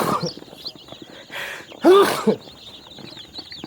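One sharp human sneeze bursts out mid-clip inside a nursery pen for newly hatched chicks, while high chick peeps and chirps continue softly around it.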